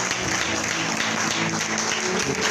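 A church congregation applauding together, a dense steady wash of clapping hands filling the room at a consistent level throughout, with no pause or talk standing out.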